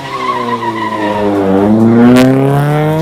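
A race car at the 2021 Southern Hill Climb in Eliakanda, Sri Lanka, its engine note climbing steadily in pitch as the tyres skid, loud and close throughout with no voices.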